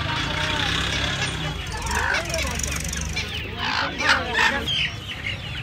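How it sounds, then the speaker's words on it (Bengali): Crested chickens clucking at the Uluberia poultry and pet market, with rooster-like calls and honking cackles rising over a crowded bustle of nearby talk. "এখানে দেখুন টোপরালা মুরগি"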